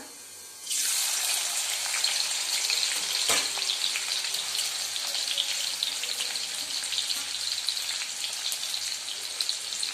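Chopped onion drops into hot oil, and a sudden loud sizzle starts at once, then settles into steady crackling frying with a brief thump early on.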